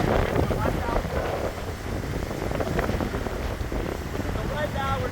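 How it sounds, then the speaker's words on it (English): Hurricane Idalia's gale-force wind, around 50 mph, roars across the microphone at a seawall in a steady, loud buffeting rush with water churning beneath it. "So right now we're getting a stage wind of about 50 miles per hour."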